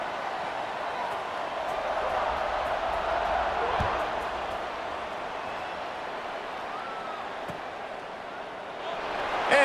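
Steady stadium crowd roar from a college football video game, Boise State at San Jose State, as the teams line up for a kickoff, holding loud and even throughout with a brief swell at the end.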